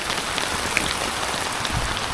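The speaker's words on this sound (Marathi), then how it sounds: "पाऊस बघू शकता जोरात असा आलेला आहे पाऊस" Heavy monsoon rain pours down steadily at Rajmachi Fort near Lonavala, a dense, loud hiss of drops drumming on surfaces with no voices.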